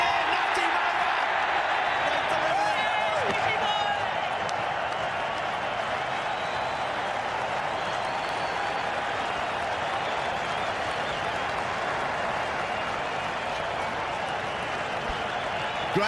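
A home cricket crowd at the Perth Test of the 2010/11 Ashes, Australia versus England, keeps up steady, distant applause throughout while a commentator talks over it.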